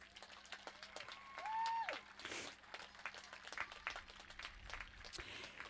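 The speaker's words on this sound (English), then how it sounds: "Graduates, will you please join me in applauding your parents, guardians, and family members in the audience?" A graduation audience at Liberty High School's commencement applauds the graduates' parents and families, steady distant clapping that swells and holds under a reverberant hall, with a tone and other noises briefly breaking through.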